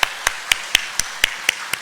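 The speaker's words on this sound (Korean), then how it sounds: "하나님께 박수로 영광 돌리겠습니다." A church congregation claps in steady, even rhythm, about eight crisp claps roughly a quarter second apart, close and clear with no speech.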